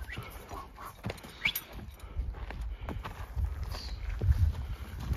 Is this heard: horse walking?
yes